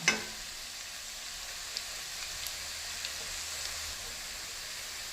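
Onions sizzling in hot oil in a pan, cooked with garlic and ginger for a turnip, spinach and green pea saag. A steady, close hiss with a sharp crackle at the start as the onions go in.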